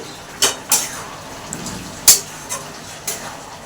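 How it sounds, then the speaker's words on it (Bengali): Stirring cabbage curry with ghee in a pan: a spoon scraping and knocking against the metal pan in a handful of sharp clinks, close by over a faint sizzle. "এবার এটা আমি একটু নেড়ে দিয়ে নামিয়ে দিচ্ছি"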